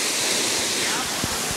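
Benarai waterfall in a forest and agency area roars with a steady, dense rush of falling water, a loud continuous wash with no pauses and no voices.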